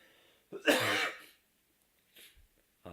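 A single loud, harsh cough with a throat-clearing rasp, followed by quieter breathy sounds and a faint voice starting at the end.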